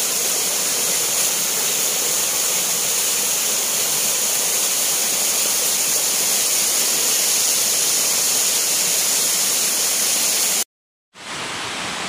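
Fikong Falls, a moderately strong waterfall, pours steadily onto rocks as a constant broadband roar, loud and unbroken, with a brief silent cut near the end.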